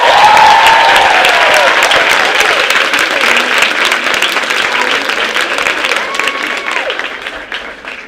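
Students at Huruma Girls High School clap and cheer loudly as a crowd, a dense close wash of applause with shouts and voices mixed in, slowly fading over several seconds.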